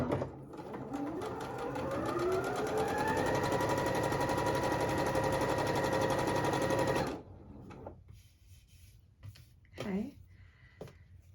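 A sewing machine chain-pieces quilt fabric for a puzzle mystery quilt, running continuously with a rapid, even whir that rises in pitch and then holds steady before stopping abruptly; brief soft handling noises and a short voice follow.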